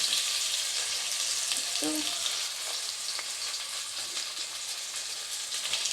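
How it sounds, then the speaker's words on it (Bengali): Potato pieces dropped into hot oil for a jackfruit and potato curry, giving a loud, steady hiss and crackle of frying that continues throughout, with a brief clink and a few soft spoken words. "আচ্ছা, তেলটা গরম হয়ে গেছে। এবার আমি আলুগুলোকে দিয়ে দিলাম।"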